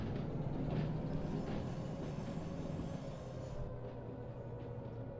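A heavy train in the Derail Valley game rumbles steadily as it builds speed ahead of a hill, a constant low mechanical drone with faint rail clatter, alone without talk.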